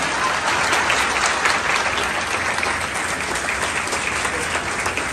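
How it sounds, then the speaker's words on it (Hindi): Steady applause from a seated audience at a felicitation event for a DIG, a continuous wash of clapping that holds evenly from start to finish without talk. "एक बार परवेज अख्तर सर के लिए जोरदार ताली।"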